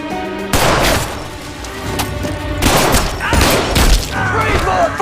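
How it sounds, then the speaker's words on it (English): Gunfire erupts in a tense film standoff, several loud sharp shots and booms bursting in quick clusters over a chaotic din, with agitated voices mixed in. "Shots fired."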